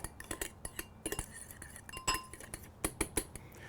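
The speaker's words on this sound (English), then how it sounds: "Get this whisked up really well." A whisk rattles and clinks against a glass bowl while caper burger sauce is beaten, producing quick, irregular metallic ticks close by with short pauses.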